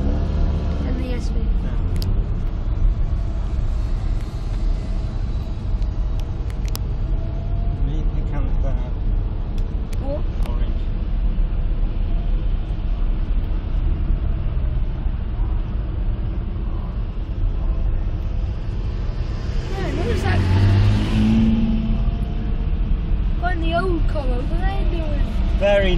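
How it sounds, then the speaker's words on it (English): Lamborghini supercars, including an Aventador and an SV, parade past at the Silverstone Classic, their engines a steady loud rumble with a stronger surge near the end, under crowd chatter and voices. "I think the Aventador though will sound better than the SV."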